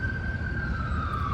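An ambulance siren holding a steady, slowly falling wail over a low traffic rumble, continuous and moderately loud throughout.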